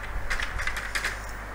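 A rapid burst of clacking keystrokes as code is typed on a computer keyboard, close and fairly loud over a low background hum.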